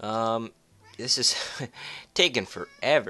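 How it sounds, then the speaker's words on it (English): A pet cat meows clearly and close at the start, a short tonal call, followed by a person talking nearby. "You guys can probably hear my cat"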